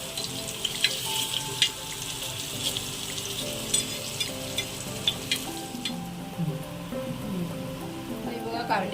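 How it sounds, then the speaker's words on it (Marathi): Stuffed bitter gourds in Malvani style frying in a pan and being turned over, a steady crackling sizzle with occasional spatula clinks and scrapes, close, with faint background sound under it. "आता आपण ही कारली व्यवस्थित परतून घेऊया आणि दुसऱ्या साईडून पण भाजून घेऊया।"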